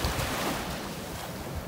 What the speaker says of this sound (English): Still an angry ocean out there.